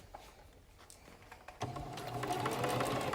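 A sewing machine stitches a face mask that has a filter slot and nose wire; the whirring starts partway through and runs steadily and loudly to the end, with no voices.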